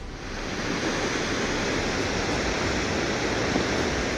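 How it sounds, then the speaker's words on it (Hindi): A brown debris flood pours down a mountainside in Uttarkashi after a cloudburst, a steady loud roaring rush of water like a waterfall with no break and no voices. "पहाड़ पर बादल फटने के बाद भूरे रंग का यह सैलाब तेजी से नीचे गिरता दिखाई दे रहा है।"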